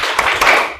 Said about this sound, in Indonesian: kemudian tepuk semangat